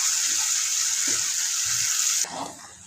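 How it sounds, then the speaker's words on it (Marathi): Mashed spinach bhaji with spice paste hits hot oil and reddened garlic tempering, giving a loud, bright, continuous sizzle that drops sharply in level near the end. "लसूण लाल झाला की घोटलेली भाजी आणि मसाला एकत्र घालून फोडणी घालायची।"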